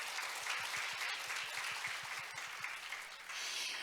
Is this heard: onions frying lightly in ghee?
no